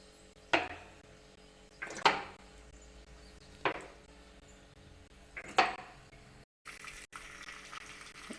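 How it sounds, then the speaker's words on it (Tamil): Hot oil poured into a clay pot for Chettinad country chicken gravy, giving a few sharp hissing sizzles at intervals over a quiet background. "சூடு எண்ணெய் ஊற்றிடும்"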